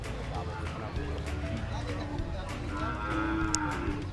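A carabao, a water buffalo on a Philippine farm, lets out a drawn-out moo over busy outdoor background noise and indistinct voices.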